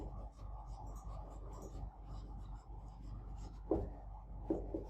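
Chalk or marker scratches against a board during an irrigation engineering lecture, a soft continuous scraping under a steady low hum, with a couple of sharper taps near the end; someone speaks quietly over it.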